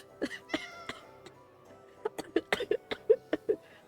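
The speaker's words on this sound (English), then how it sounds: "You don't think Rita was actually talking to that cat, do you?" A cat in the Tales of Vesperia video game gives a string of short, fairly close meows, sparse at first and then a quicker run of chirpy mews toward the end, with faint background noise.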